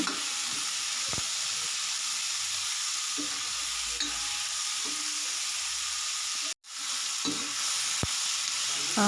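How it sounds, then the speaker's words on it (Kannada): Tomato and onion fry in a pan for a homemade sambar, a continuous close sizzling hiss with occasional stirring clicks and scrapes, and one brief cut to silence partway through. "ಇದಿಷ್ಟು ಚೆನ್ನಾಗಿ ಫ್ರೈ ಆಗಬೇಕು ಫ್ರೆಂಡ್ಸ್ ಟೊಮೊಟೊ ಈರುಳ್ಳಿ ಎಲ್ಲ"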